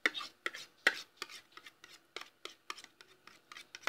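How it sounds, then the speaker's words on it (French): A utensil stirs homemade pink slime in a container, giving a close, repeated series of short scraping, squelching strokes in an uneven rhythm, with no voices over it. "Après, vous touillez. Donc voilà, moi je vais touiller là."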